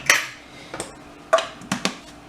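Vinaigrette being stirred with oil in a bowl, a utensil clinking against the dish in five or six sharp taps spaced irregularly, close and moderately loud, with no talking.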